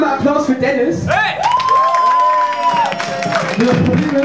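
Concert audience at a live show at KUZ Osterholz cheers, whoops and claps for the cameraman Dennis, loud, close and lively, with high shouted yells rising over the clapping and one long sustained whoop across the middle.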